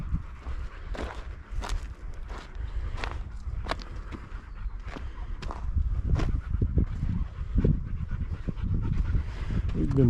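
An old, tired dog pants close by in quick, rhythmic breaths, with soft footsteps and shuffling and a person talking quietly in the background.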